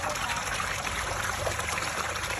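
Water trickles steadily into a pond being filled during a rebuild, a close, continuous babbling flow with no breaks and no talking.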